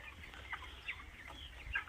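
Chickens raised on straw bedding in a poultry farm, giving a few soft, scattered clucks over faint background hum, fairly quiet and distant.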